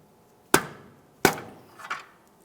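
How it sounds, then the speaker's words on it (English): A hammer strikes a pry bar to knock the inner tie rod boot clamp loose on a 2002–2005 Ford Explorer steering rack, giving two sharp metallic whacks and a softer third knock, close and alone. "You can go ahead and knock this out of position using a pry bar and a hammer."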